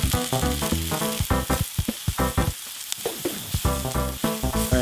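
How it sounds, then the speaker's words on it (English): Smoked mushrooms go into a pan of softened onions in grapeseed oil, setting off a loud, close sizzle with crackling pops and a brief lull in the middle. "Now it's time to add the smoked mushrooms."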